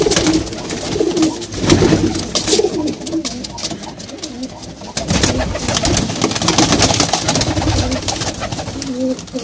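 Cheena pigeons coo repeatedly up close, their soft throaty calls overlapping with bursts of rustling and fluttering.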